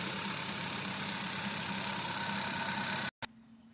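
Steady idle of a 2016 Hyundai Tucson engine after a spark plug replacement for a misfire, a constant even hum that cuts out abruptly near the end.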